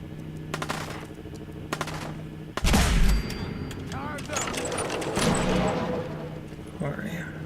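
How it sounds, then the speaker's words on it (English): A hand-cranked gun firing in The Wasteland video game: rapid rattling bursts and a heavy thumping blast mixed with mechanical clatter, with someone talking over the shots. "I kind of love this because it's a hand crank gun."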